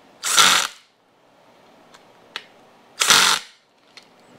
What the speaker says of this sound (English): I will torque it down just a tad more before calling it.